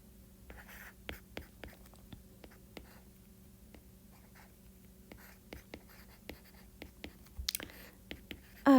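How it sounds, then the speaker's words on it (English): Pen strokes scratch across a writing surface during a math lesson on vector component form, a series of short, faint scratches and taps with pauses between, close and quiet, ending in a brief louder rustle. "I can write this down below."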